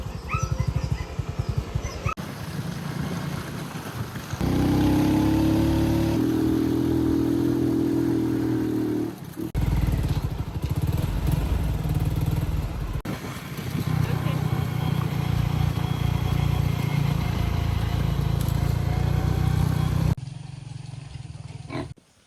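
A motorcycle rides along a rough, muddy road, its engine droning steadily and rising in pitch mid-ride, with a voice talking over much of it.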